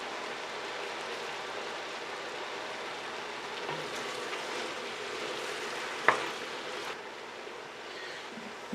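Butter sizzles softly in a pan alongside kielbasa and bacon bits while cooking haluska, a steady low crackle with one sharp clink partway through, moderately close and without talk.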